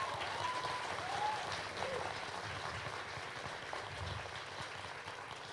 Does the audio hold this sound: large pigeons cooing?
no